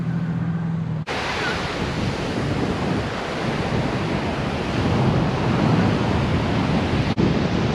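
Strong wind buffets the microphone over steady crashing surf at Waimanalo Beach on Oahu, a loud continuous roar that swells slightly toward the end, with a brief cut-out near the start and again before the finish.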